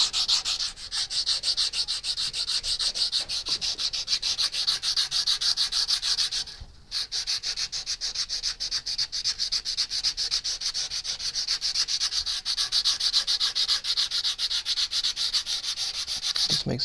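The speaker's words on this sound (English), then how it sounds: "I find wrapping sandpaper around that works quite nicely for sanding in these slopes" Sandpaper wrapped around a dowel rubs steadily across the sloped heel of a carved wooden guitar neck, a continuous close rasping stroke with one brief pause.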